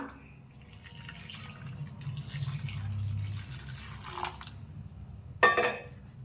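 Boiled water poured into a pan of aval kesari, a soft gurgling flow building in the middle, then a sharp metallic clank near the end.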